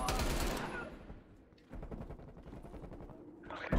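Rapid automatic gunfire in Call of Duty Cold War, a dense loud burst that fades out, then another sustained stream of quick shots with a faint voice underneath.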